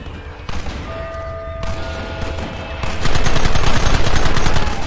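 A loud Red Dead Redemption shootout: scattered rifle and pistol shots early, then dense rapid gunfire building into a sustained fusillade near the listener.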